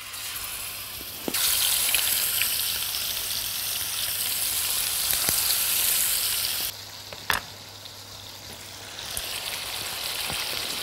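Chicken breasts sear in oil in a pan, a loud continuous sizzle that drops briefly after a sharp clatter, then picks back up.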